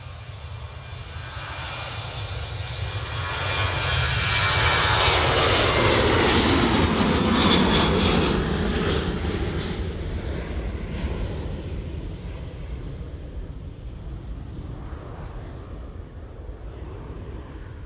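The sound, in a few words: Sun Express airliner departing Manchester Airport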